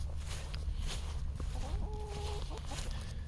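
Chickens cluck softly in a farm coop in Florida, a few quiet repeated clucks over a steady low background hum, no talk.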